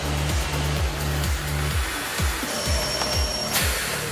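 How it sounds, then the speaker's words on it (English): Vacuum cleaner motor running steadily on a factory test line, a loud continuous whir with rhythmic falling tones repeating throughout, heard close. "The motor generates a constant 100-mile-an-hour stream of air that sucks dust up from hard floors."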